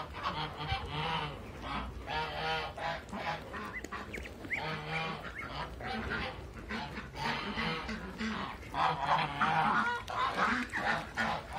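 A flock of Muscovy ducks honks and calls continuously, with overlapping hoarse cries that rise and fall close by, and a person's voice is heard among them.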